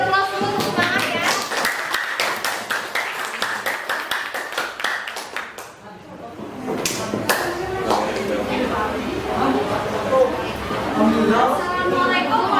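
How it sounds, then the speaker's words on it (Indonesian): A classroom audience claps in sharp, rhythmic bursts for a student group presentation, loud and close, then pauses briefly before clapping and chatter resume. "Kita beri aplaus dulu untuk semangat ya."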